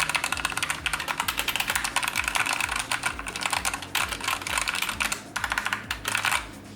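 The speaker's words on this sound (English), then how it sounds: "the typing noise on this keyboard is fairly quiet." Rapid, steady typing on a Redragon K552 mechanical keyboard with red switches, close and clear, a dense run of soft clacks and key thumps with no talking.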